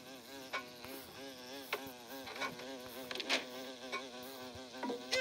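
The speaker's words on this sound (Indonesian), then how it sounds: "Aduh, si lebah lagi tuh." Buzzing bee in the video game Walk Master: a steady, droning insect hum with wavering pitch running throughout, joined by brief clicks and game sound effects, no talking.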